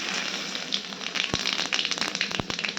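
Cumin seeds and dried red chilies splutter in hot oil on a pan, a dense crackling sizzle with scattered sharp pops, close and steady.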